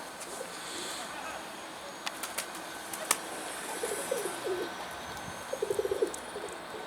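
Pigeons coo softly in short warbling bursts, with a few sharp clicks and faint outdoor noise around them.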